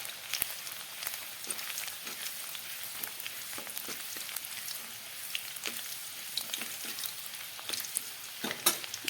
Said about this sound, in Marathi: आता लसूण बघा छान असं फ्राय होतोय.